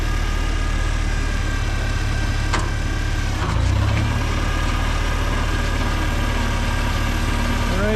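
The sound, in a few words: tractor engine running through garden furrow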